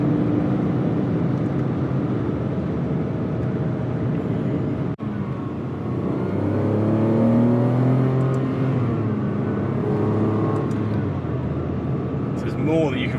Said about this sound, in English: You can just feel the torque of the engine.